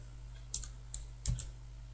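A few keystrokes typed on a computer keyboard while entering commands in a drawing program, four or five crisp close clicks spaced over two seconds against a steady low hum.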